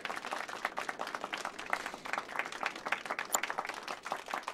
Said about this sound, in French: Mesdames et messieurs, veuillez applaudir bien fort notre pianiste.